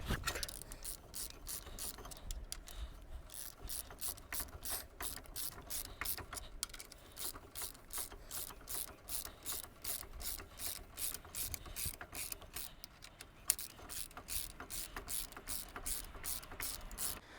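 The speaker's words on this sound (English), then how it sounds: "So we press these pistons in, but we'll show you what happens up there with the liquid." A brake caliper piston is pressed back in on a Nissan Frontier during a front brake pad job, a faint close run of rapid ratcheting clicks and scraping metal that continues steadily throughout with no talk.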